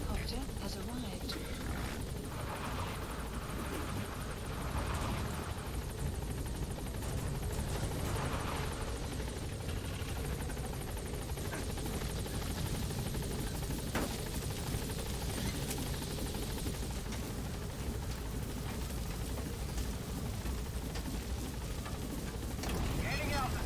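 A support helicopter in Metal Gear Solid V arrives and flies overhead, its steady rotor and engine roar filling the whole stretch loud and continuous, with radio voices speaking over it.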